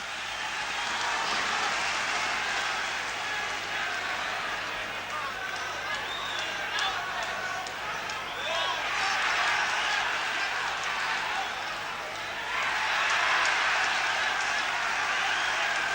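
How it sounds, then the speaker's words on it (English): Danish boxing crowd roaring and applauding at a fight between Dave 'Boy' Green and Jørgen Hansen, a dense, continuous wall of cheering that swells near the end, with a commentator talking over it. "So the noise of the Danes really drowning the fan club."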